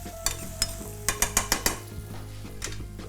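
Shallot, garlic and mushrooms fry in a hot pan with a steady sizzle, broken by a run of sharp metallic clinks and scrapes from stirring against the pan, loud and close with no talking.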